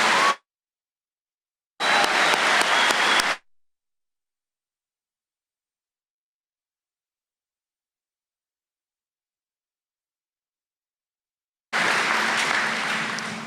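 Graduation audience at the Muskego High School 2019 ceremony breaking into loud applause in three separate bursts, a short one at the start, a longer swell, then a final burst after a long silence.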